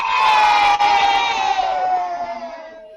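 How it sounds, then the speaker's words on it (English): Children in a primary school classroom cheering together, a loud close burst of high-pitched shouting and whooping that peaks early, then trails off and fades over about three seconds. "Give us a wave and a cheer in your classrooms if you did."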